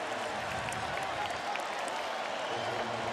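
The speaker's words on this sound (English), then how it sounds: "Now the crowd coming to life, feeling it." Stadium crowd at a college football game between Illinois and Michigan, a broad sustained roar of cheering and applause with a commentator talking over it.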